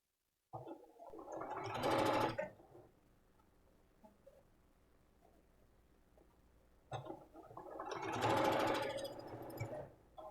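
A sewing machine stitches a quilt block in two loud bursts, around two seconds each, near the start and end, with a quiet stretch of handling between them.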